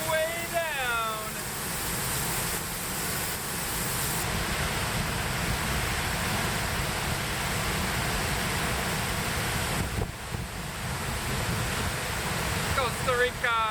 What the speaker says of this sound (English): I'm standing behind a big roaring waterfall! Look at how much water's going down.